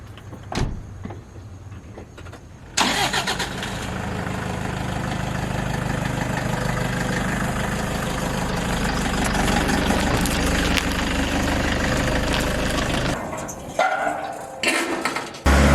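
A car engine starts at night before a long drive to Kruger National Park, then settles into a steady, fairly loud idle, with faint clicks and mechanical sounds before and after.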